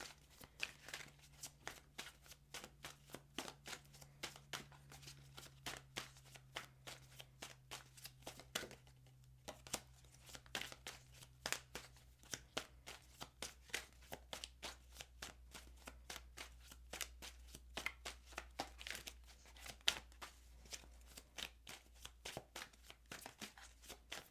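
Tarot cards shuffled by hand in a long run of quick, soft riffling slaps, close and fairly quiet, with a brief pause partway through.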